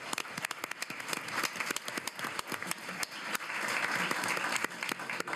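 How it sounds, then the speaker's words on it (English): Sustained applause from an audience at a school board meeting honoring an award-winning magnet high school, dense steady clapping that swells slightly toward the end. "Give them a round of applause."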